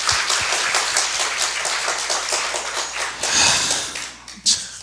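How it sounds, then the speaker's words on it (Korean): Congregation at a Korean church service clapping together in a steady, dense patter throughout, fairly loud and close, with a few murmurs mixed in. "한 번 더 박수합시다."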